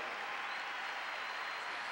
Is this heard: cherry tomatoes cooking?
no